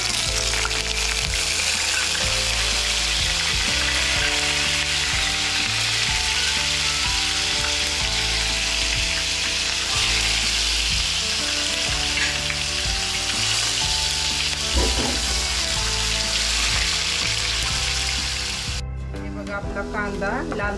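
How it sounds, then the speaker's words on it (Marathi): Bay leaves and onion frying in hot oil, a loud, steady close sizzle that fills the whole stretch with crackling texture, with stirring scrapes and a brief drop near the end. "तेजपत्ता, कांदा घालून घेऊयात अगोदर।"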